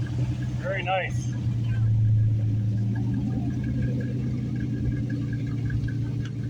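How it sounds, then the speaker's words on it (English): Classic cars, among them an old Chevrolet El Camino, roll past at an outdoor car show in Escanaba, Michigan, their low engine rumble steady and continuous while people chatter nearby. "We got some sweet rides going by."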